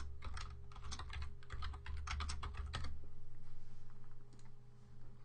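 A computer keyboard clatters with quick bursts of typing, nearby and fairly quiet, then stops and leaves a faint room hum.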